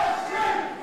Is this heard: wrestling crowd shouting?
yes